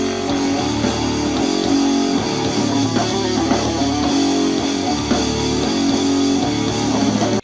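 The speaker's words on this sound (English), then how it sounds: "1979 Moog Taurus synthesizer." A 1979 Moog Taurus bass synthesizer plays within a full, dense band mix, with steady loud low notes throughout and no talking.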